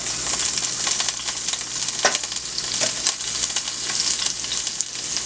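Onions fry in hot bacon fat and olive oil for meatballs, giving a loud, steady sizzle up close, with scattered crackles and pops and a faint low hum beneath, and no speech.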